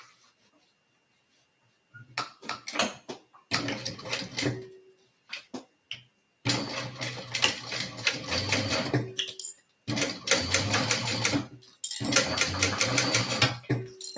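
A home sewing machine stitching a HexaTote bag, heard as loud rapid mechanical runs, starting with short stop-start bursts and then settling into longer continuous stretches, with brief pauses between them.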